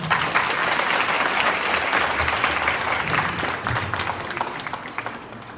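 Devotees at a Srimad Bhagavat Katha gathering in Sri Kunjbihari Gaudiya Math, Ambala, clapping for a child who danced, a continuous, fairly close round of many hands that thins slightly toward the end.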